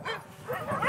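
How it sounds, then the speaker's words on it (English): Many sled dogs at a large home kennel bark, yip and whimper together in a dense, overlapping chorus, close and fairly loud throughout a short burst. "That's a lot of dogs."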